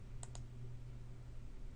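Two quick, close mouse clicks, sharp and light, land in fast succession on a gallery icon over a faint steady hum, with no talk.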